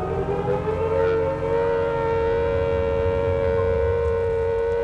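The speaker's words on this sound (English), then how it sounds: "the first air raid siren in wartime Britain was heard" An air raid siren in wartime Britain sounds a sustained, steady wailing tone, loud and unbroken for the whole stretch, with no voices.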